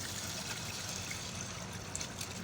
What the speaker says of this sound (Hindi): 1 गिलास पानी डालूँगी इसमें।